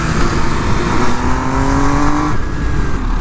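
MV Agusta limited-edition motorcycle accelerating hard at full throttle in Los Angeles, a loud continuous engine roar with rising harmonic whine as revs climb, close and steady for a few seconds with no talking.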